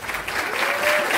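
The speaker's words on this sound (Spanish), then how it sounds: "vamos a dar un fuerte aplauso a Carlos Olivera" Brief burst of strong, dense applause from an audience welcoming Carlos Olivera onstage at a talent show, steady and loud throughout.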